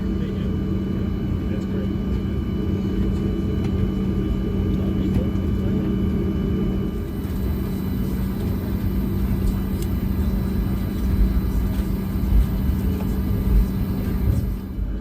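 Steady low rumbling engine and air noise inside the cabin of a Southwest Airlines Boeing 737 MAX 8 airliner in flight, continuous and even at moderate loudness with no distinct events.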